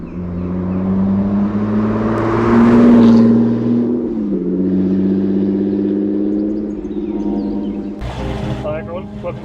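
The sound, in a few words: 1970 Citroën DS engine revving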